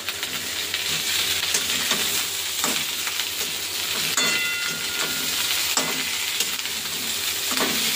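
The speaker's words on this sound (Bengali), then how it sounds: "আমার এই যে উচ্ছে ভাজাটা হচ্ছে, লাল লাল করে ভাজবো উচ্ছেটা" Sliced bitter gourd and eggplant fry in hot oil in a pan, giving a continuous close sizzle and crackle with occasional scraping of a spatula as the pieces are stirred.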